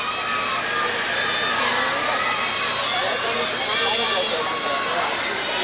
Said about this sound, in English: The crowd loved it, and the judges loved it.